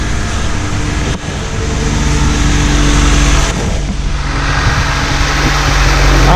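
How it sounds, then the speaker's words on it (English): A running Honda car with noisy power steering gives a loud, continuous mechanical whine and droning rumble, steady throughout with a slight dip near the start, close up and without any talking. "it does this, makes a lot of racket, especially when it gets hot with the steering."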